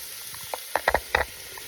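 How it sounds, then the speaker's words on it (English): Onions frying in a pan while a wooden spoon stirs them, with a steady low sizzle and a few close, soft scraping clatters clustered in the middle. "I'm just going to get a wooden spoon and just kind of stir these onions"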